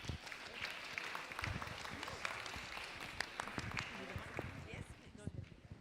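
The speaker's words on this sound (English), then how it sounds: "Big round of applause for Annie," Audience applause for a performer named Annie at a seniors week gathering, a dense, steady clapping across the whole stretch with voices murmuring underneath.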